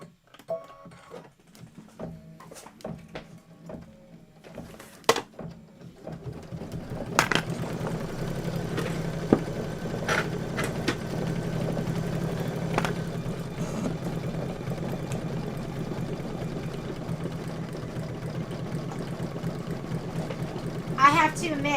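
A sewing machine runs steadily while stitching a quilt block for an autumn sew-along, a continuous mechanical hum after a few sparse clicks, with occasional sharp ticks throughout.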